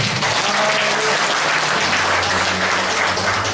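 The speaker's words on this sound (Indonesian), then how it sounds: "Tepuk tangan buat Tuhan." At an Easter church service, a congregation breaks into applause, a dense, steady wash of many hands clapping together for several seconds, loud and full, without speech over it.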